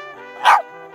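A single short, loud dog bark rings out over a faint sustained tonal background, close and sharp, lasting only a fraction of a second.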